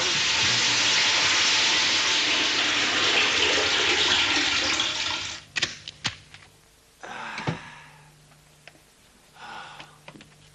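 A toilet flushing in an old kung fu film: a loud, steady rush of water for about five seconds, then a few sharp knocks and clatters as the flow dies away.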